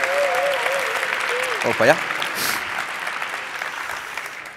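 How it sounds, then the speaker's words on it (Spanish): An audience at a tech talk applauds the presenters, steady clapping running through, with someone speaking over it briefly near the start. "Un aplauso para ellos."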